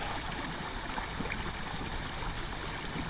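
Water flows in a steady, faint rush outdoors, an even broadband wash with no distinct splashes and no one talking.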